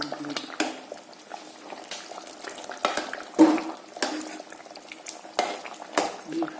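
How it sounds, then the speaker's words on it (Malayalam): Beef curry bubbles and simmers in a pot for a biryani, soft boiling gurgles broken by repeated clinks and scrapes of a spoon against the pot. "ബീഫ് തിളച്ചുകൊണ്ടിരിക്കുന്നു"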